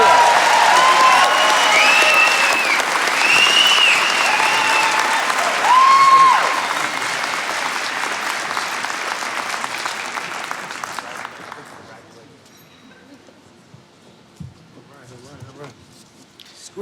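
An audience at an awards ceremony bursts into loud, sustained applause with cheers and whoops, then the clapping thins and fades to near silence after about eleven seconds, with a few faint voices afterward.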